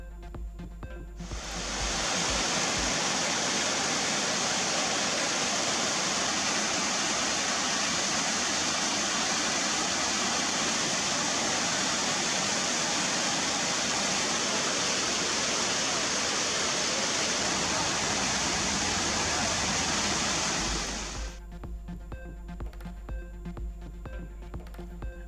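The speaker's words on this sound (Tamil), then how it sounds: "திண்டுக்கல் மாவட்டம் கொடைக்கானலில் உள்ள வெள்ளி நீர்வீழ்ச்சியில் ஆர்ப்பரித்து கொட்டும் தண்ணீர்." Silver Falls waterfall in Kodaikanal, Dindigul district, roars steadily as water pours down, a loud, dense, unbroken rush lasting about twenty seconds before cutting off abruptly.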